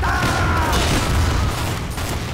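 A Team Fortress 2 sticky bomb explodes during a sticky jump, a loud deep blast with a rumbling tail amid busy game din.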